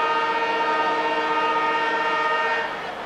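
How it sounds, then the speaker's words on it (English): A siren wails at an Australian football match to end the first quarter. It is a loud, steady, sustained horn-like tone that holds for about three seconds and then begins to fade. "As the siren sounds"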